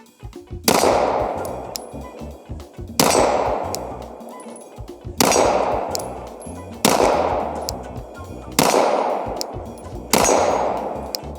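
A PSA Dagger pistol fires six evenly spaced single shots about two seconds apart, each a sharp loud crack with a ringing metallic tail, with no voices between.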